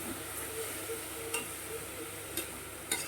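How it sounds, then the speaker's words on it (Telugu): Jackfruit pulihora mixture is stirred in a pan over a medium flame, giving a soft steady sizzle with a few faint, close scrapes and taps of the spoon. "ఇప్పుడు ఇది మీడియం ఫ్లేమ్లో పెట్టుకొని బాగా కలిసి వరకు కలుపుకోవాలి"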